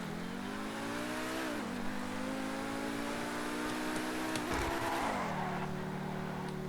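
A Pegassi supercar in GTA V Online revs loudly and steadily, its engine pitch climbing, dipping around the two-second mark, rising again near four and a half seconds, then settling, with a brief tire squeal; no one speaks.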